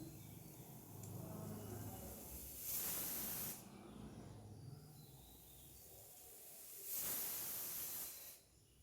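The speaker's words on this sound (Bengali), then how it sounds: "এখানে আমার আলুতে সিটি হচ্ছে।" A pressure cooker boiling potatoes lets out two loud, hissing steam whistles, each lasting about a second, separated by a stretch of quieter kitchen background.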